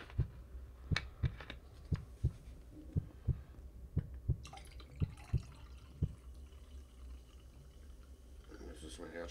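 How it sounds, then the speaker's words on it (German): A heartbeat from the survival horror game The Red Exile, a series of deep, evenly spaced thumps about two per second that stop partway through. Faint watery drips and a low ambient hum continue afterward. "Jetzt ist mein Herzschlag wieder besser geworden."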